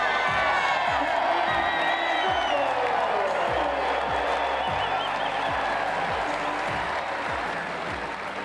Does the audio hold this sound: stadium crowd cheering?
yes